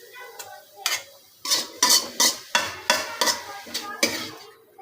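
A spoon stirs and scrapes fried leafy greens (shak) in a pan in about ten distinct, rhythmic strokes, loud and close over a light sizzle.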